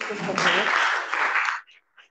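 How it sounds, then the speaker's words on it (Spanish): Audience applause for a doctor after a seminar talk on baculoviruses, a burst of clapping from a modest group that holds for about a second and a half and then stops abruptly, leaving a couple of stray claps. "un aplauso para la doctora a todos"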